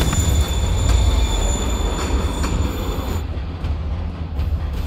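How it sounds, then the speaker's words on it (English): A train rumbles and rolls past in the Spider-Man PC game, a loud, steady low roar of wagons on rails with squealing wheels and metallic tones that thin out toward the end. "Train moving."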